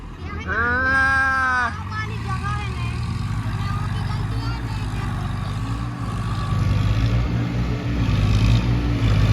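Eicher 557 4x4 and Swaraj 855 tractors locked in a tochan pulling contest roar at full throttle. A brief rising whine opens a loud, continuous engine drone while people talk over it.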